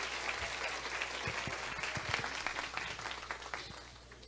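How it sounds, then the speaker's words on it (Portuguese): Audience at a symposium clapping: a steady wash of applause with scattered distinct claps, fairly faint and distant, tapering off toward the end. "E agora eu gostaria de uma salva de palmas."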